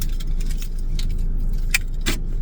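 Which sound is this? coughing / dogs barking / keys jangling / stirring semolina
keys jangling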